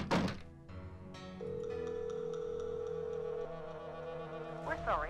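A telephone in a Nancy Drew video game is picked up and dialed: a few clicks, then a steady flat dial tone that holds for a couple of seconds before changing pitch, all fairly close and clear.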